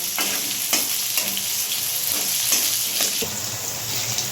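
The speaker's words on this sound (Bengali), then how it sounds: "হাফ চামচ হলুদ দিয়ে আমি সুন্দর করে আলুটা একটু ভিজিয়ে করে ভেজে নেব" Potatoes fry with half a spoon of turmeric in a pan with a constant loud sizzle, broken by several spatula scrapes as they are stirred. No one speaks.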